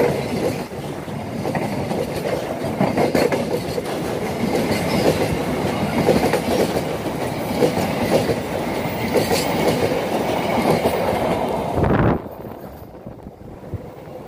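Argo Kian Santang passenger train rolling past on a railway bridge, a loud continuous rumble with clickety-clack of wheels and wind buffeting the microphone, cutting off abruptly near the end as the last cars pass.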